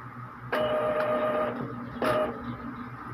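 An Epson L3210 inkjet printer running a head-cleaning cycle gives two bursts of mechanical whirring and buzzing, each starting abruptly and lasting about a second, with quieter motor hum continuing between them, close and alone with no talk.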